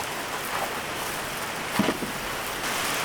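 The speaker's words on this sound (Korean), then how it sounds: "많이 오네. 엄청 많이 온다 비" Heavy rain pours steadily at a valley campsite beside a treehouse, a dense continuous hiss of drops on surfaces with a brief louder patter partway through, and no talk.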